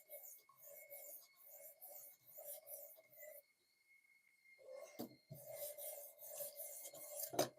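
Worn kitchen knives from an old household set drawn repeatedly across a sharpener, giving rhythmic raspy strokes in bursts with a short pause, loud and close, with some faint background sound.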